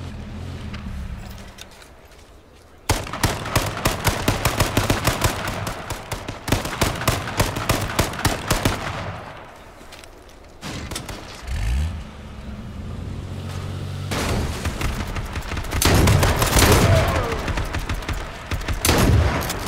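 Shotgun fire in the battle royale game H1Z1: repeated sharp blasts come in dense clusters, with quieter gaps between the volleys and a low rumbling background underneath.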